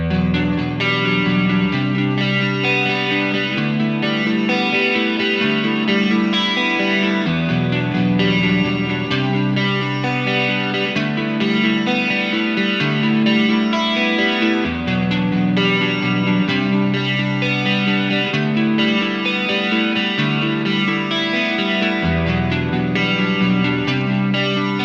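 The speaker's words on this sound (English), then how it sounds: "that's a very full and pristine sounding clean guitar" A Fender Stratocaster played on its single-coil neck pickup through a Line 6 Helix gives a full, glassy clean electric guitar tone with chorus and echo, playing steadily and continuously without any talking.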